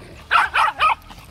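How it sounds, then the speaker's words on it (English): A dog barks three times in quick succession, close and fairly loud, each bark short and evenly spaced. "And all this barking is probably too high of a decibel"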